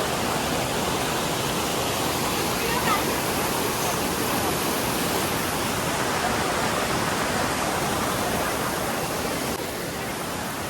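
The Milky Bar waterfall on the Andharban trek roars steadily and loudly, a dense unbroken rush of falling water that fills the whole clip without pause.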